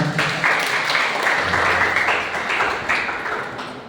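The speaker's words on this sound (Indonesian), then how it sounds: "Tepuk tangan untuk peserta." Audience applause for participants after a student presentation, a dense burst of clapping that runs the whole time, strongest at the start and slowly tapering toward the end.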